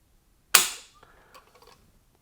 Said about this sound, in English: let's get out the gauge, let's clear the averages, and let's see how heavy or light this trigger is